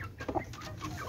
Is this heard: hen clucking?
yes